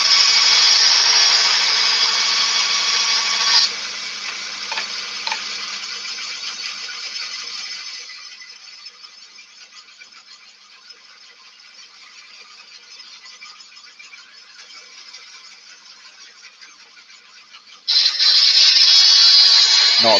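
A bandsaw cutting wood for a kid's cap dart, a loud steady whine and rasp that eases to a lighter, quieter cut midway, then surges back to full loudness near the end.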